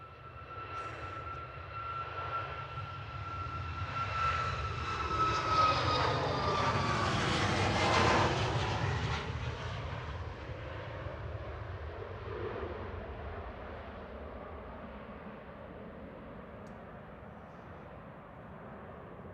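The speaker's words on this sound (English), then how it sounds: "we've got TAP Air Portugal, we've got Lufty and Brussels Airlines coming in." Airliner coming in to land at Manchester Airport, a jet engine roar that swells as the plane passes close and then fades away, with a falling whine and steady low rumble.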